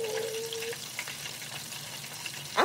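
Fish frying in hot oil gives a steady, close sizzle and crackle, fairly loud and continuous, with a brief clatter at the end.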